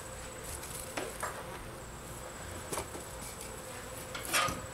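Soft, steady buzzing of many honeybees at an opened hive close by, with a few louder passes as individual insects fly near.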